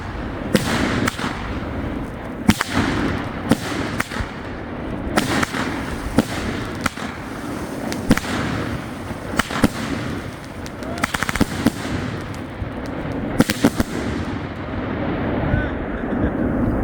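No Limits Piromax 50mm firework shells burst one after another, loud sharp booms with crackling trails and echoing thuds, while people talk excitedly in the background.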